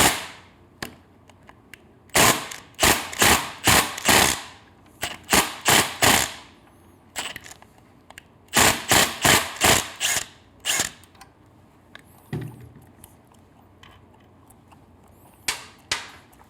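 An impact wrench loosens an 8 mm Allen bolt on a Triumph Street exhaust, firing in several loud, rapid hammering bursts of one to two seconds, separated by short pauses and lighter clicks.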